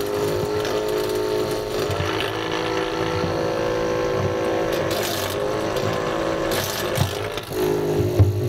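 Small model engine fuelled with methanol running steadily with a buzzing, droning tone, fairly loud and close, with a few brief mechanical clicks and bursts near the end.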